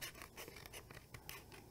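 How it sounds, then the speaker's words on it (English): Cricut scissors trimming around a sticker design, soft close snips and paper rustle in an irregular rhythm, quiet and near. "So I'm going to trim this down. I'm going to use our Cricut scissors."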